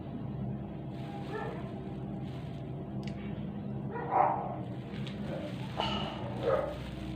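A few short barks and yips from puppies at moderate distance, scattered over a steady background hum, with a couple of louder bursts toward the end.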